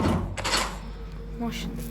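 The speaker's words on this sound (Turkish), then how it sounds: "Asansör kapısı." Elevator door in Internet Cafe Simulator making a couple of soft thuds and a sliding rumble, moderately close, under a low background hum, with talk over it.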